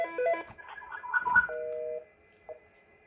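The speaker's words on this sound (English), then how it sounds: "now it dials that extension." A Fanvil i53w touchscreen desk phone dials an extension: a quick series of clear DTMF keypad tones, then a steady held tone, and a short final blip, heard alone without talk.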